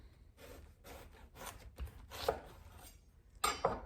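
A knife chops round white cabbage into small pieces for a fermented cauliflower and vegetable mix. Several crisp, uneven cuts land close by over a quiet kitchen background, with no talking.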